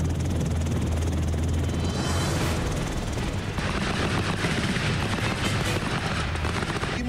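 Apache attack helicopters with heavy gunfire during a night military exercise, the steady loud rotor roar running throughout while rapid bursts of gunfire crackle over it.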